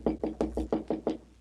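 Seven firm knocks on a door in a steady, evenly spaced rhythm, close and clear, with no voices over them.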